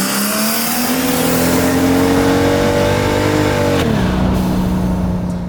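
A V12 twin-turbocharged Toyota Hilux engine revs loudly and close, its pitch climbing steadily before it drops off sharply and settles back to a lower drone.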